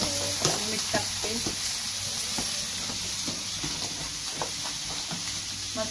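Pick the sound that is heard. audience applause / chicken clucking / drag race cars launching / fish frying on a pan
fish frying on a pan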